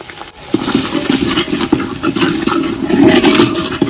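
Masala with ginger-garlic paste fries in hot oil, giving a loud, steady sizzling hiss that runs unbroken from start to finish.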